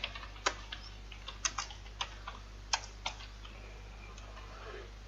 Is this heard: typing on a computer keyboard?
yes